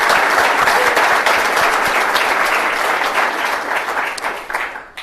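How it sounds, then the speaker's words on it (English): An audience at a city council meeting in El Cajon applauds public safety personnel, with dense, loud, sustained clapping that fills the room and tapers off slightly toward the end. "I'd like to give them a round of applause."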